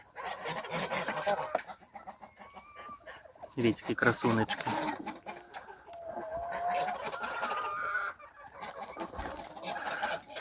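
Farmyard chickens that roam with the geese cluck and call nearby, with a sharp squawking burst partway through, while someone talks over them.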